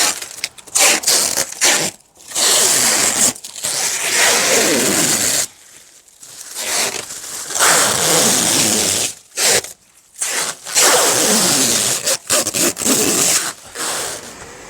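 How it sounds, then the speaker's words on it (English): Protective plastic film being peeled and crinkled off a newly assembled Vegega metal raised garden bed, a close, loud tearing and rustling in several long bursts separated by short silent pauses. "now we can take the rest of the plastic off"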